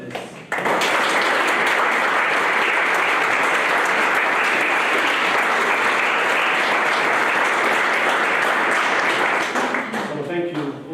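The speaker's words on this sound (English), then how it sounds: "Just like to give one round of applause for the panelists." Audience applause for panelists at a literary festival event, a loud, full round of clapping that starts abruptly, holds steady, and thins out near the end.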